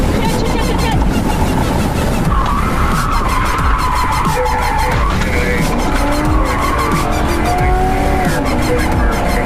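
Car tires skid and squeal loudly during a police chase, with engine roar and overlapping squeals throughout, while a panicked officer shouts over them.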